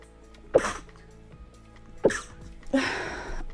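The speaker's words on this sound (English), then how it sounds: "I have to sneeze." Two or three sharp, breathy sneezes burst out in quick succession, close to the microphone.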